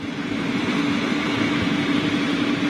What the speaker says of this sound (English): Hear that idling noise there as number 2 starting up now.